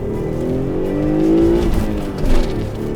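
A Ford Probe GT accelerates hard, its engine note rising steadily in pitch from inside the cabin, then dipping briefly at a gear change before pulling on, loud and close.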